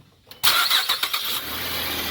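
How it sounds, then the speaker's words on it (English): A 2012 Cadillac SRX with a freshly repaired exhaust flex pipe cranks and fires up after a short quiet moment, then settles into a steady, fairly loud idle with no talk. "So now our exhaust is totally done. So we can fire it up."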